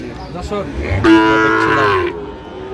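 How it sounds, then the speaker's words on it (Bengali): Sahiwal cattle at a Noakhali livestock market, one loud, close moo lasting about a second with a rough, low-pitched tone, over faint background chatter. "এখানে বেশ সুন্দর গরুগুলো"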